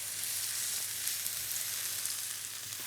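Spring onions and garlic fry in a pan, giving an even, fairly quiet hissing sizzle. A few faint stirring clicks are scattered through it, and no one speaks.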